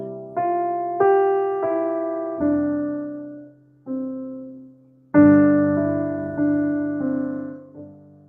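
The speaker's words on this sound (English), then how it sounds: "When you see the G is an open fifth to another G." A piano plays a series of ringing open-fifth chords, each struck cleanly and left to decay, with a brief pause midway before more chords follow.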